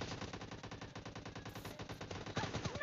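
Rapid automatic gunfire from the PUBG Lite video game in a warehouse team deathmatch, a fast continuous burst of shots at steady rhythm, fairly loud and alone.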